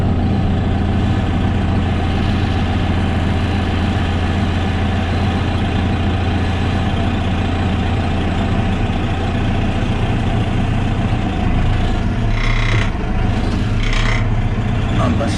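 A farm hay rake machine's tractor engine runs steadily at close range, a loud, continuous low diesel rumble that holds throughout, with a few brief mechanical clanks near the end.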